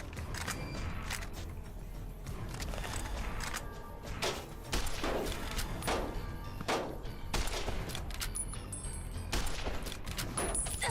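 Scattered vermin rifle shots in Fallout: New Vegas, light cracks repeating at uneven intervals over a low in-game ambience, fairly quiet with no one talking.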